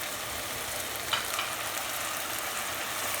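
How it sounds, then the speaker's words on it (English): Dry spices fry over a high flame in a pan, making a constant, close sizzle with a brief brighter burst of crackling partway through, unbroken by speech. "And now we are going to add all the dry spices to it."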